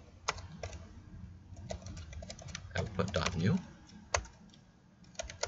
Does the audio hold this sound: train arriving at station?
no